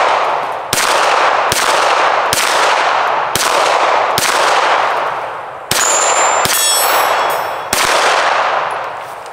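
Canik TP9SFX 9mm pistol fired outdoors at a soda can, with a compensator and weapon light fitted: seven loud, sharp shots spaced about a second apart, each with a ringing tail, the later ones carrying a metallic clang.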